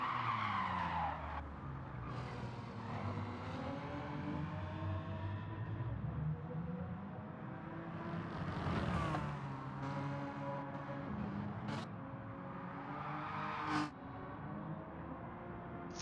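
A TVR Tuscan Speed 6 race car in Gran Turismo Sport skids through a crash at Sardegna, with continuous loud engine drone, sliding tire noise and several sharp impact bursts; no talking.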